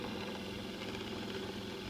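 A Bedini motor runs bogged down under load, a steady close mechanical hum with a fine rapid pulsing rhythm, continuous and without talk.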